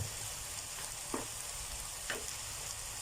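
Onion and pork sausage stir-frying with oyster sauce, a faint, steady sizzle broken by a few short stirring scrapes.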